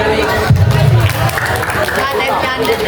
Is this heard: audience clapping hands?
yes